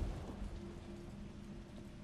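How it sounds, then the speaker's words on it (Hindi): Steady rain falls in the video game Resident Evil 3 Remake as a continuous soft hiss of droplets with a low rumble underneath, fairly quiet and uninterrupted, with no talking. "बारिश हो रही है।"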